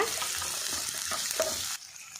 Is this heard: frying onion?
yes